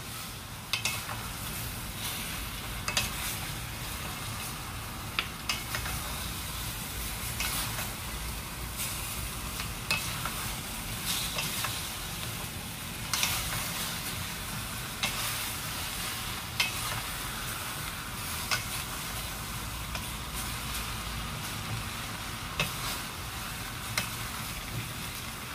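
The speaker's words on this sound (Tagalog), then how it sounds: "Haluin ulit." Chicken adobo with potatoes being stirred in a pan without oil, a steady sizzle with regular scraping clicks of the utensil against the pan, close and alone with no talk.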